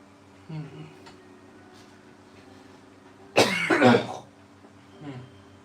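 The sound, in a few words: cough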